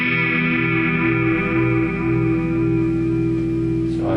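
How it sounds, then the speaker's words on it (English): A guitar amplifier's chorus effect set to maximum depth gives a sustained distorted guitar chord a wide, wavering back-and-forth warble, played loud and steady with no talking. "if you crank that to 10, you get a real big back and forth sound"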